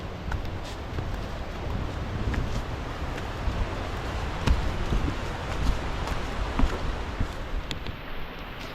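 Heavy rain pours down on a trek near Thoovanam waterfalls in Munnar, a dense steady hiss with wind buffeting the microphone and scattered sharper drops striking close by.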